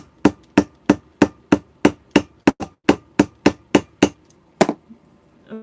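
A hammer taps a tool to punch pinprick holes in recycled material, sounding as about fifteen sharp, evenly spaced knocks, loud and close, with a couple of softer taps near the end and no talk.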